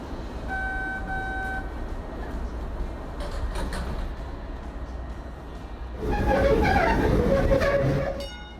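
A train rumbles along steadily, with a brief electronic chime early on and a louder rattling surge toward the end.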